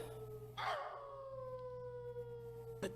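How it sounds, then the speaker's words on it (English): A dog howls in an old radio drama, one long falling wail that rises faintly over a hum-laden background, with a brief noise burst near the end. "The dog again."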